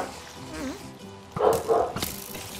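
Dogs barking in a video game: a couple of short, mid-loud barks over steady game background noise, with faint voices present.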